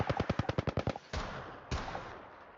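Rapid automatic gunfire in the battle royale video game Apex Legends, a fast burst of about nine close, loud shots followed by two heavier single blasts with ringing tails; no talking.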